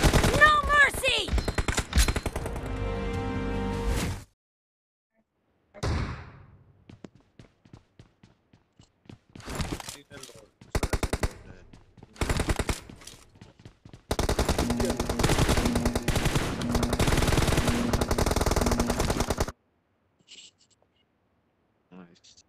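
Rapid bursts of automatic gunfire from a PUBG Mobile team deathmatch, loud and dense, broken by short silent gaps, with game voice callouts heard between the volleys.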